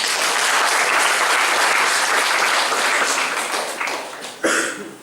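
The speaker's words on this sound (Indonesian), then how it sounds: "Tepuk tangan." Sustained audience clapping fills the room at full strength, then thins and tapers near the end, with a last burst of claps before it fades; no one speaks over it.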